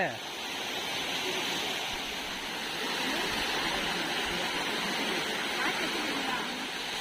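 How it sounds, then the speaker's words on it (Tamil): A waterfall pouring down from above, a dense, steady rushing roar of falling water that stays loud and constant throughout, close by, with a voice speaking over it. "பாருங்க மேலே வந்து தண்ணி வருது சக்க சக்க சக்க சக்க சக்க சக்கன்னு"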